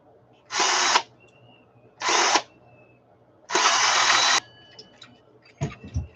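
Three loud bursts of a power drill whirring, each about half a second to a second long, separated by quiet pauses, followed by a few faint clicks.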